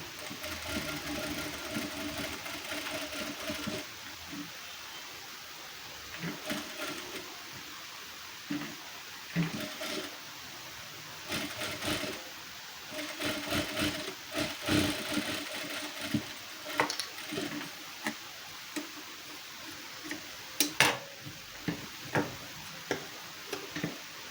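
Sewing machine stitching a folded salwar waistband: a steady mechanical whir with fast ticking needle strokes, running in bursts and stopping between them, close and moderately loud, with no talk.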